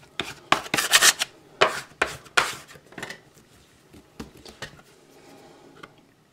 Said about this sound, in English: Plastic bench scraper.